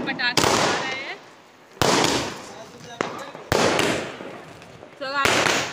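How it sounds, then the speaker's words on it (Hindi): Diwali firecrackers go off from a rooftop in a series of four or five sharp, loud bangs, each followed by crackling decay, with people talking between the blasts. "पीछे हम लोग पटाखे जला रहे हैं।"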